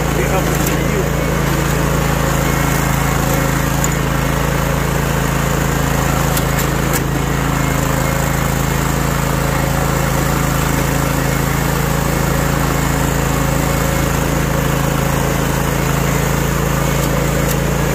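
A lawn mower engine runs outdoors in a continuous, loud, even drone with a steady low hum. It stays constant the whole way, with a few faint clicks near the start.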